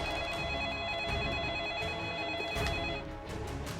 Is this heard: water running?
no